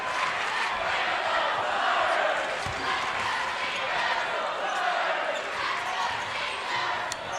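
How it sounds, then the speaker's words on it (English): A loud home crowd at a Dayton college basketball game against St. Joseph's roars and chants continuously, a broad sustained cheer with occasional sneaker squeaks and a commentator talking over it. "Dayton back to a loud Dayton crowd"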